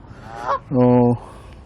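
Wild geese honk at a pond, sounding two loud, nasal calls close by: a short one followed by a longer, sustained honk, with a quiet outdoor background and no talking.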